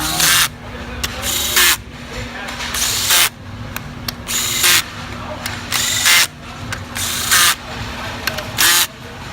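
A tool repeatedly tightening bolts on a 4L80e transmission during assembly, in short loud bursts separated by pauses, with voices talking between the bursts.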